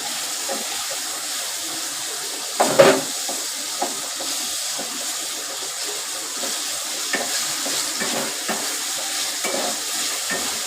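Potatoes and tomatoes with salt roast in a pan, giving a steady close sizzle broken by stirring scrapes and a few louder knocks of the spoon, with no one speaking.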